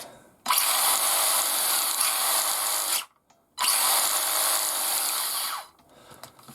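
Electric motor of a Tamiya TT02 RC car revving in two loud, high-pitched whining bursts of about two and a half seconds each, separated by a short silence, close up with no talking.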